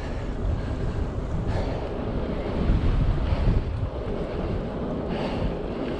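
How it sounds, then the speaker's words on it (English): Heavy wind roaring across the microphone of a Carrera Vulcan e-bike riding uphill into a headwind on a mountain route, a loud continuous low buffeting rush that swells in the middle, no voices. "I'm going against the wind as well."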